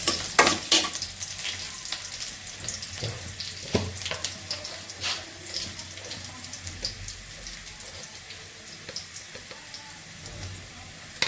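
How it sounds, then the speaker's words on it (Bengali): Cauliflower, eggplant, potato and lentils hitting hot oil, giving a steady close sizzle with scattered clatter and stirring clanks, loudest at the start, then a continuous crackling hiss. "ফুলকপি বেগুন আলু আর ডাল তেলে দিয়ে দিচ্ছি"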